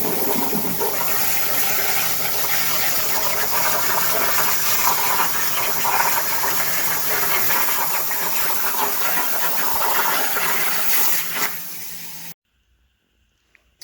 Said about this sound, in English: I went and fired up the plasma and whipped out a bunch of these tabs